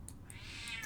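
A cat meows in a video game, a single short, fairly faint call lasting about a second.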